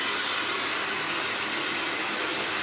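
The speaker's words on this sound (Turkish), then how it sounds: "Bir de şu yelesini azıcık fönleyelim." Hair dryer blowing air over a dog's mane while it is combed, a steady loud whooshing hiss that runs without pause throughout.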